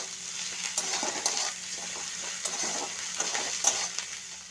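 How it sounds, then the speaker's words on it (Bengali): Ginger paste frying in a pan with oil, a close continuous sizzle broken by light clicks and scrapes of stirring, no talk. "দিয়ে আদাটা ভেজে নেব।"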